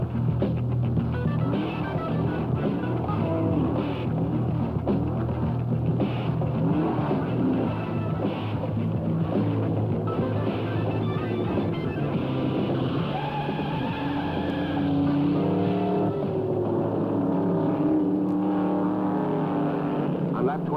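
Vintage AMC Javelin race cars running in a Penske-team road race, with a steady engine drone under continuous narration, the motors humming and shifting in pitch throughout.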